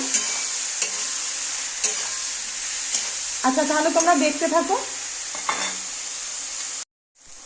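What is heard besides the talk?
snake gourd frying with salt and turmeric, stirred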